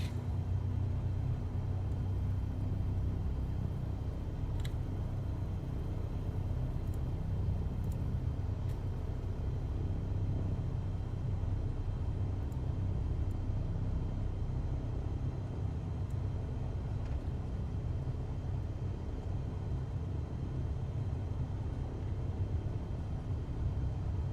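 Small single-engine airplane taxiing in a flight simulator with its engine running and mixture leaned for ground operations, a steady low droning rumble throughout, even in level, no voices.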